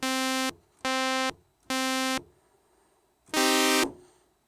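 Four loud, buzzy Yamaha DX7 synthesizer tones with an odd envelope, the first three short and evenly spaced, the last longer and brighter with a fading tail, separated by near silence.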